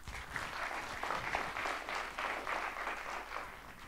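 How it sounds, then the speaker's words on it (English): An audience at a digital transformation conference gives a round of applause: a dense, steady patter of clapping that holds for about four seconds, moderately loud and fairly close, with no voices. "let's give that a round of applause."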